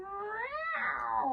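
Drawn-out cat meow with a rising, then wavering pitch, close and clear, lasting over a second with no other sounds around it.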